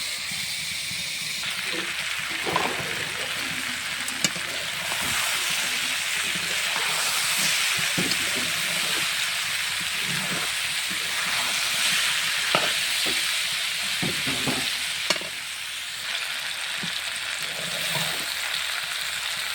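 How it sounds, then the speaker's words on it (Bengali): Sweet pumpkin slices fry steadily in oil in a wok, a continuous close sizzle with soft crackles and occasional stirring clicks, with no talking. "এভাবে আস্তে আস্তে ভাজা হবে।"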